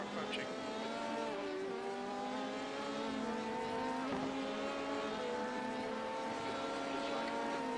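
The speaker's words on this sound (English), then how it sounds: "Last car approaching." Race car engine in the iRacing sim during a 24-hour endurance race at Road Atlanta, a steady loud high-revving drone with rising and falling harmonic tones as another car closes in and passes.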